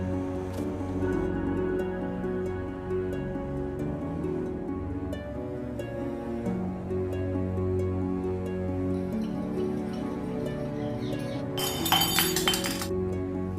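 A glass of juice falls and breaks with a sharp, bright crash of shattering glass near the end, heard over a sustained musical background.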